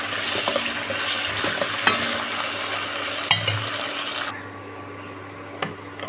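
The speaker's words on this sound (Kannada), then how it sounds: "ಸ್ವಲ್ಪ ಶುಂಠಿ ಬೆಳ್ಳುಳ್ಳಿ ಪೇಸ್ಟ್ 1 ಸ್ಪೂನಷ್ಟು, ಒಂದು 1/2 ಟೀ ಸ್ಪೂನಷ್ಟು ನಾವು ಹಾಕೊಂಡು ಈ ಥರ ಮತ್ತೊಂದು ಸಲ ಚೆನ್ನಾಗಿ ಮಿಕ್ಸ್ ಮಾಡ್ಕೊಳ್ಳೋಣ" Ginger garlic paste being stirred into a frying masala in a pan, a steady sizzle with scraping spoon strokes throughout that drops away abruptly near the end, with no talking.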